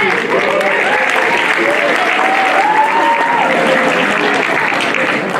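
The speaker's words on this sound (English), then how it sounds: "They deserve a big round of applause." Loud, sustained applause from a crowd at a high school athletic banquet in Muleshoe, steady dense clapping filling the room throughout, with a voice faintly audible underneath.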